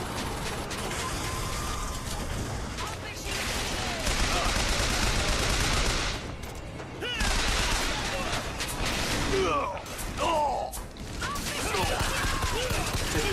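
Rapid bursts of gunfire from BioShock Infinite run densely through the scene with mechanical clatter, while someone talks over the shooting almost throughout.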